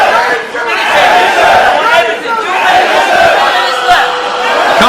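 A crowd shouts and cheers steadily at a Polaris 6 submission grappling event, Benson Henderson versus AJ Agazarm, a dense, loud roar of many voices with swelling chants throughout.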